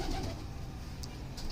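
Pigeon cooing softly and close by, low murmuring calls over a faint background hum with a couple of small clicks.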